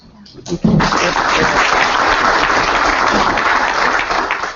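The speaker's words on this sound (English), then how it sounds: "Please show him your appreciation with a warm round of applause." A room full of people breaks into sustained, even applause that swells quickly and continues steadily for several seconds.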